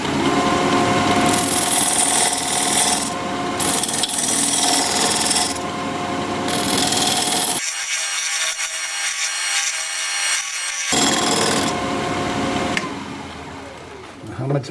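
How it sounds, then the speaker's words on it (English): Wood lathe turning a piece of scrap apple wood, with a diamond point tool squaring up the sides of a tenon: a steady scraping, rasping cut that pauses a few times, the loud whine returning between breaks. "I'm going to switch to this diamond point tool to square up the sides of the tenon."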